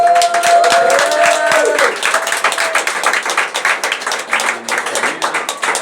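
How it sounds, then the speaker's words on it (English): A live audience at a comedy show in a Barcelona craft bar breaks into applause, loud, dense clapping that carries through the whole stretch, with some whistles or cheers layered over it early on. "Give a round of applause to yourself."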